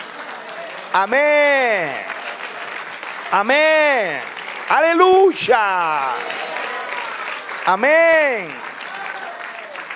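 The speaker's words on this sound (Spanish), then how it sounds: "Dale un aplauso al Señor." A church congregation applauds the Lord during a sermon, with a steady wash of clapping running beneath repeated loud shouts of praise from the worshippers.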